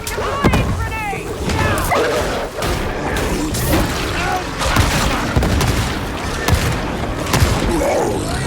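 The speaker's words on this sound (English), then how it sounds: "Deploying grenade!" Grenade and gun blasts in Warhammer 40k: Darktide, sharp repeated booms and cracks over a chaotic firefight, with shouting voices and combat noise throughout.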